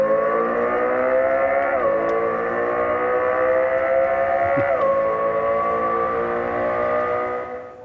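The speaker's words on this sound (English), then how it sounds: "the Lexus LFA V10 sound simulation available on demand" A simulated Lexus LFA V10 engine note plays inside the cabin, a loud rich harmonic drone that holds steady, then briefly dips in pitch at shifts and fades out at the end.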